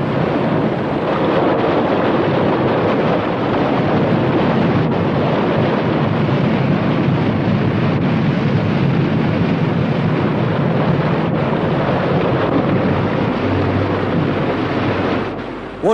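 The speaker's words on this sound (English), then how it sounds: "Start submerging procedure." A submarine submerges in a 1968 Japanese science-fiction film, heard as a steady, loud, broadband roar of rushing water and churning surf that lasts throughout without a break.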